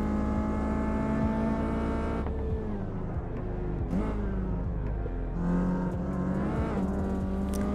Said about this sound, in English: It's the fact that it's willing to let you rev it right out with really consistent power delivery all the way up the rev range.